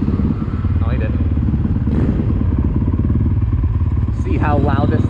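A 2020 Kawasaki KX125 two-stroke dirt bike with upgrades idles loud and close in an echoing parking garage, its rapid crackling engine pulse continuous throughout, with brief rising revs near the end.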